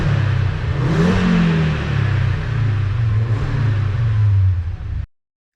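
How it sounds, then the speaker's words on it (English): An Audi RS engine swapped into a VW Caddy van is revved in a few loud, rising bursts over a deep rumbling idle, close by and with no talk, cutting off abruptly near the end. "Let's give it a few revs."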